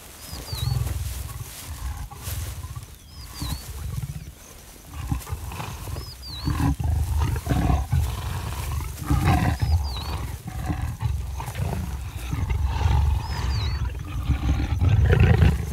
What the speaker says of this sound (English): Leopard mating is not a silent affair, in contrast to their stealthy hunting.